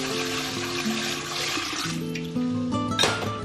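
Water poured into a cooking pot over bones while preparing a stew, a steady splashing gush running for several seconds with a brief clink near the end, fairly loud and close, no voices.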